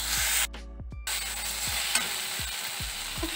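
Chopped tomato frying in a pan with onion paste and ginger-garlic paste, a steady close sizzle broken by a string of soft spatula scrapes and taps, with a brief hush near the start.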